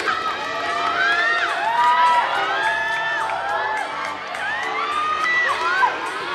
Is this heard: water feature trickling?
no